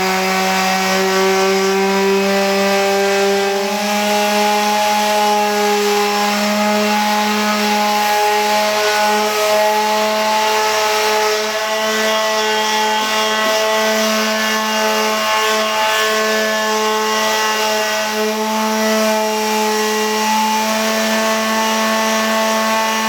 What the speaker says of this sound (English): I'm going to get the sander out, sand all our surfaces